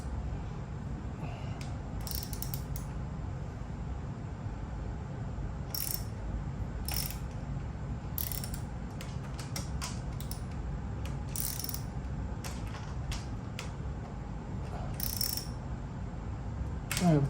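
A ratchet clicks in quick, repeated bursts as it tightens a stubborn nut while a wicker egg chair with ottoman is assembled, heard close against a low background hum.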